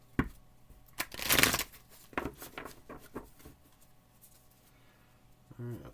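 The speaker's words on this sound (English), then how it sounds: "One more shuffle here." Oracle cards being shuffled by hand up close, a long riffling burst followed by several shorter shuffles and taps, with quiet gaps between them.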